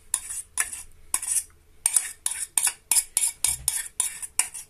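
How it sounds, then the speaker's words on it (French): A utensil stirs rice mixed with curry turkey sauce and cheese in a saucepan, making a rapid run of about a dozen scraping, clinking strokes that are close, moderately loud and steady in rhythm. "Donc là, vous avez ce mélange-là, du riz et au-dessus la sauce. Et vous mélangez maintenant."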